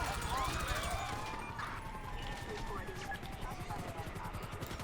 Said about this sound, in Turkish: Helikopter bizi vuracak.